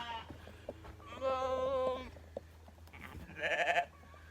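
Sheep on a farm bleat in two clear calls, a long wavering one near the middle and a shorter higher one toward the end, fairly close over a low steady background hum.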